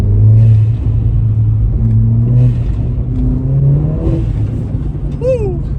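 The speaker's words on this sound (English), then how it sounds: "I don't know if you guys can hear that blow-off valve." A Stage 3 VW Polo GTI accelerates on a snowy road, its engine droning and rumbling steadily close by while it builds boost, with a brief rising whistle near the end that may be the blow-off valve.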